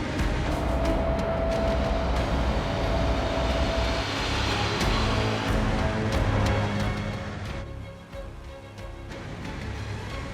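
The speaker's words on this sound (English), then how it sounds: "As the sun goes down, Claudio pulls into Basel, the train's last stop in Switzerland" Train running on an Alpine railway in Switzerland, a continuous rumble of wheels and carriages with a faint tonal whine. The noise fades slightly toward the end.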